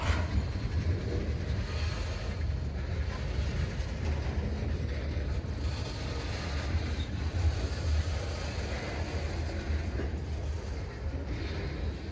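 A long Wisconsin Central freight train with weathered grain cars rolls past close by on the NECR Swanton Subdivision, a continuous low rumble with clanking and wheel clatter that keeps going without letup.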